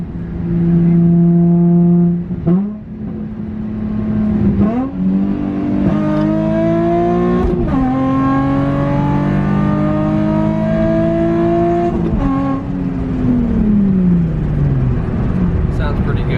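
A Nissan 350Z Nismo fitted with a Tomei exhaust pulls hard through the gears, its loud, droning engine note climbing, dropping at shifts and rising again, close up and continuous, with a possible exhaust leak adding rasp.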